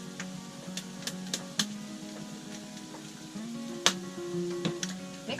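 Spam and egg being stirred in a frying pan with a light ginger spice, giving a soft, steady sizzle broken by several sharp clicks and scrapes from the utensil against the pan, with no one talking.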